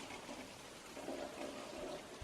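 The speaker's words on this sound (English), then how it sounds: "It's like really rainy out here." Steady rain falling outdoors in heavy weather, a constant soft wash of drops with a faint watery trickle, continuous and fairly quiet throughout.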